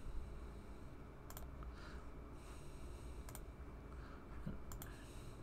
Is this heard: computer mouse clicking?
yes